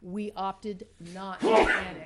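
At a city council meeting, a person speaks briefly and is followed by a sudden, loud, breathy sneeze burst near the end.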